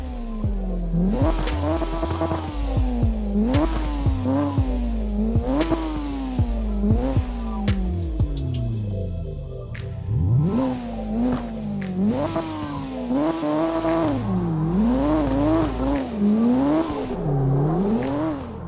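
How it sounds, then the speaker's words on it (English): A drift car engine in the video game CarX Drift Racing revs repeatedly in rising and falling surges, with turbo whine and whooshes between shifts, loud and continuous. "messed around a little bit with the turbo sound and the way that the revs sort of accelerate"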